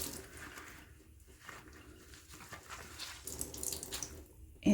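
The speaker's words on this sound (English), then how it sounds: "And then I'm going to give this a quick rinse." Running water from a tap splashing over tie-dyed fabric during a quick rinse, a soft steady gurgle and spatter that swells slightly toward the end, fairly quiet with no voices.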